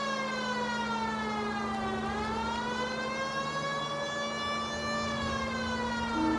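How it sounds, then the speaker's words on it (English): A video game police siren wails, rising and falling slowly in pitch, loud and continuous with a low engine hum beneath, no voices. "Sirens, let's go."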